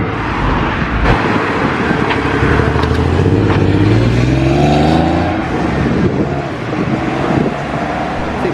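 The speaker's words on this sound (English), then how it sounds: "That GT3 RS sounded amazing." A Porsche GT3 RS sports car drives off from a classic and sports car breakfast meet. Its loud, close engine climbs in pitch as it accelerates, then the note drops away.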